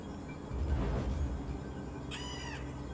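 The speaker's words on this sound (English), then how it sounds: "The birds cannot ruin it now." Crows in the video game I Am Fish give a single clear caw near the end, heard over a low rumbling game background.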